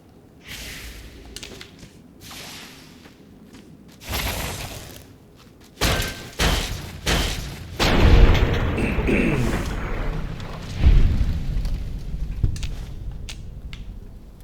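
Fallout New Vegas gameplay, where a bomb goes off with a deep boom, followed by a string of heavy thumps and booming bursts of varying loudness spread over several seconds.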